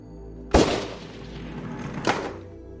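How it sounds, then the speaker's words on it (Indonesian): Two sharp, loud bangs about a second and a half apart, like gunshots, from a Vespa scooter's exhaust backfiring, with a brief echoing tail after each. "suara yang menyerupai suara tembakan itu berasal dari knalpot Vespa milik tetangganya"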